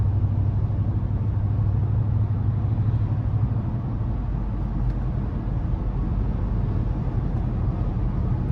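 A constant low exhaust drone fills the cabin of a lifted 2015 GMC Sierra 1500 SLE while driving, steady and unbroken with no talking.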